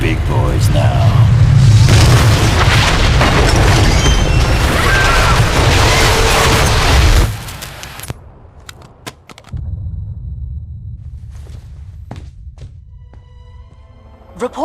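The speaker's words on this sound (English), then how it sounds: "Reports now coming in from Stamford, Connecticut indicate a massive explosion in a residential neighborhood" An explosion in the video game Marvel Ultimate Alliance 2 roars as a loud, sustained rumbling blast lasting several seconds, then drops away into quieter sounds with scattered sharp clicks.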